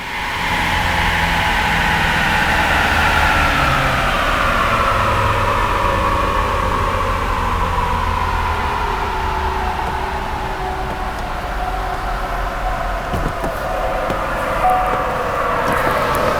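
A 2020 Ford Super Duty with the 6.7 Powerstroke diesel pulls steadily on a dyno, giving a loud, continuous roar and whine that climbs gradually in pitch across a long run and then eases off.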